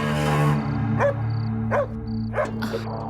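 A pet dog named Cookie gives three or four sharp, spaced barks and yips indoors. The barks cut through a steady musical drone.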